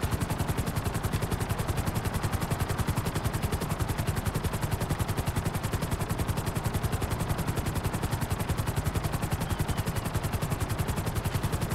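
Helicopter lifting off in GTA 5 Online, a loud steady rapid rotor chop with a dense whine throughout, close and continuous for the whole stretch, no voices.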